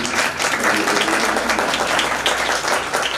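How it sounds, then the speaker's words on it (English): Steady, full audience applause fills a hall at the Phoenix International School Intellisphere Expo, with many hands clapping evenly throughout. "I all appreciate a big round of applause to all of you."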